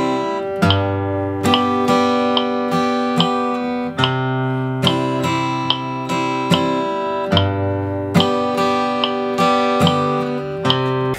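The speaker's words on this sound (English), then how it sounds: "the syncopated strumming pattern sounds like this" An acoustic guitar strums chords in an offbeat, syncopated pattern, with crisp strokes and ringing chords played steadily and up close.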